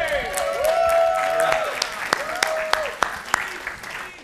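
Audience at a real estate deal analysis session applauding, light scattered clapping under voices, with a few sharp individual claps toward the end, moderately close.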